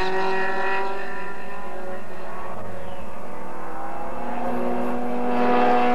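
Several racing cars roar past on track during a 1980 F Production national championship race, a continuous loud engine drone with pitch shifts as cars pass close by and recede.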